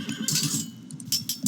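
Hippikon cavalry horses in Age of Mythology, a short burst of horse neighing and whinnying with snorting, close and fairly loud, repeated over a second and a half.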